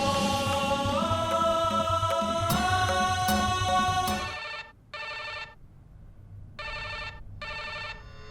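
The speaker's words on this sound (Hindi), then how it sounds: "विजया जी मुझे क्यों फोन कर रही हैं?" A telephone rings loudly in a sustained electronic trill, then continues in short repeated bursts separated by brief silences.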